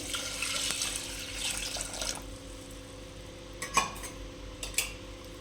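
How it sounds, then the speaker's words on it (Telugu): Water is poured over washed lentils while tomato dal is being prepared. A soft rushing splash lasts about two seconds and then fades, followed by a few faint clinks of a utensil against the pot. "ఇప్పుడు వాటర్ పోసుకుందామండి"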